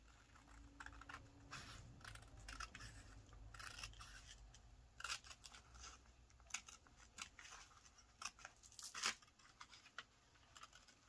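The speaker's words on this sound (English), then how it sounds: "I'm just going to take my scissors and follow along in here." Scissors cut paper along an envelope template for a handmade journal, a quiet run of irregular snips and crisp paper rustles, close and soft, with a few sharper cuts toward the end and no talk.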